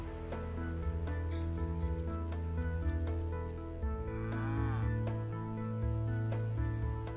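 Cows moo in the space-farming video game Milkmaid of the Milky Way, a low drawn-out bellow rising midway through over steady background game music.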